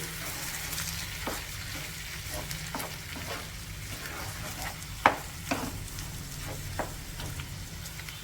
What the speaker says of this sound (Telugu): ఓకే అండి, ఇప్పుడు మనం మిక్స్ చేసేసుకుందాము.